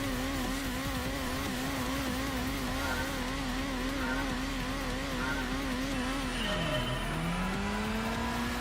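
A Honda Civic with a VTEC engine revs hard in Gran Turismo, its steady high-pitched wail holding, then dropping sharply on a shift before climbing again, loud and alone without talk.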